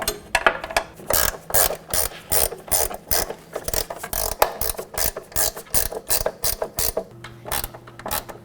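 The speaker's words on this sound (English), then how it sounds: "So let's get a 14mm wrench in there and break those free." A 14mm ratchet wrench loosens bolts on the front suspension of a 2004-2008 Acura TL during an upper ball joint replacement, giving rapid, close bursts of ratcheting clicks separated by short pauses.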